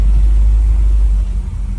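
A 1970 GMC truck engine runs at a steady idle, a loud, close, low rumble holding evenly before easing slightly near the end, with no talking.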